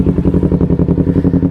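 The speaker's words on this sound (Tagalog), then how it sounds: "After 1 year, ganyan na ang tunog ng ating motor" Kawasaki Z650 motorcycle engine, a year old, idling with a steady, throbbing low rumble and rhythmic pulsing exhaust beats, loud and close, with no voices over it.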